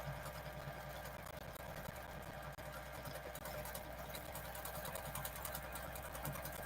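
A sewing machine runs steadily through free motion quilting, its fast needle chatter and motor hum continuous and close for the whole stretch, with no pauses and no talking.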